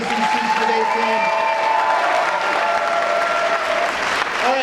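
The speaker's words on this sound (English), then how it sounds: "Can I get one last big round of applause for the MJC Speech Debate team?" A live audience at a college speech night applauds the speech and debate team, dense steady clapping with some cheering filling the whole stretch.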